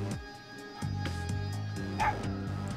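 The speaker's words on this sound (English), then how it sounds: "Oh, that bark was so cute. Do it again." A dog barks a few times in the 3DS video game Persona Q: Shadow of the Labyrinth, heard as short, soft yips over steady, looping game music.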